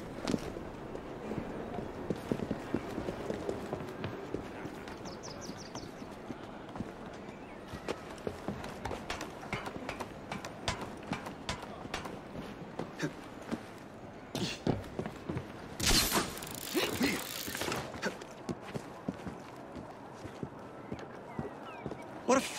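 Horse hooves clip-clopping in Assassin's Creed Syndicate, a brisk, rhythmic run of close hoof strikes over a street surface with occasional louder thuds, continuing throughout.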